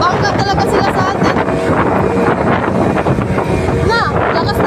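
Strong wind at sea roars steadily across the microphone with a broad rushing noise, while voices talk over it throughout, near a ship collision at Jolo port, Sulu.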